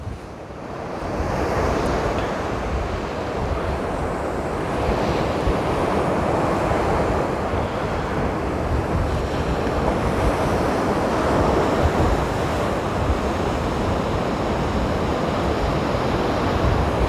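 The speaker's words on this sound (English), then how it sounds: "You hear the waves better at night." Ocean waves break on the shore at night in Pacifica, a loud continuous roar of surf with wind buffeting the microphone, no voices present.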